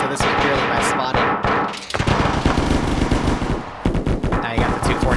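M240 machine guns in the video game Arma 3 fire in long, loud, rapid bursts, almost continuous with brief gaps, mixed with other gunfire and a commentator's voice over it.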